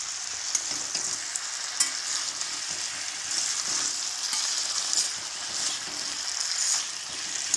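Potatoes being stirred as they fry in a pan, with a steady hissing sizzle and scattered scraping strokes of the spoon, loud and close, with no talking.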